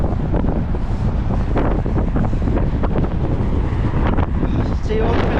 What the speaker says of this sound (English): Just wanted to show you the wind.